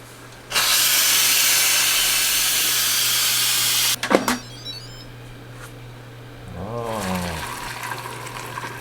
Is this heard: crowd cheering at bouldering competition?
no